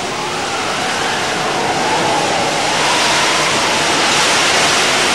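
Ocean waves roll at sea during a storm in a cartoon, a dense, unbroken roar of surf that builds slightly over several seconds, loud and close with no talk.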